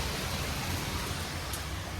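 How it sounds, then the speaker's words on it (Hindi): Heavy rain pours at Chopta on the way to Tungnath, a dense, steady hiss with no gaps or individual drops, loud and constant throughout with no one speaking. "फुल तेज बारिश आ रही है"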